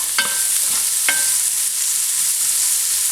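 A small onion is added to a hot pot with oil and pork loin scraps stuck to the bottom. It sets off a bright, hissing sizzle, with two sharp metallic clinks of a utensil against the pot early on.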